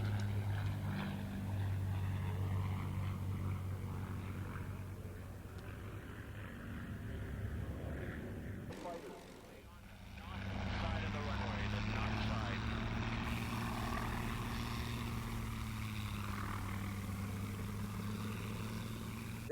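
Propeller-driven carrier-based fighter aircraft at an air show, its engine drone loud and steady with a brief dip mid-pass before the roar returns, while a voice talks over it.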